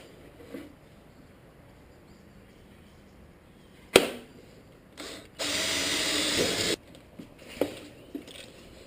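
A power drill runs steadily for about a second and a half, boring corner holes in a workpiece ahead of a jigsaw cut, with a sharp knock before it and light tool handling after.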